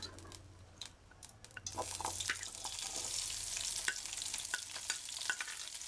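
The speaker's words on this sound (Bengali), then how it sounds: "এখন দিয়ে দিব শুটকি মাছগুলো।" Washed dried fish (shutki) go into a little hot oil on a stove; a few clinks give way to a rising, steady sizzle with scattered crackles and stirring scrapes, and no one speaks.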